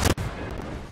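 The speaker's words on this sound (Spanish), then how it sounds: "Tengo un cohete que se lo voy a tirar toda la cara a este." A rocket fired at an opponent in the video game Fortnite, an explosives game mode: one loud, sharp launch blast at the start, followed by a brief dip and then a sustained roaring rush of noise as it flies.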